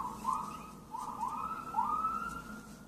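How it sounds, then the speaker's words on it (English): Police sirens wail outside, a rising and falling electronic tone heard through a window at moderate distance, with three repeated upward sweeps over a steady background hum. "just the police sirens in my background."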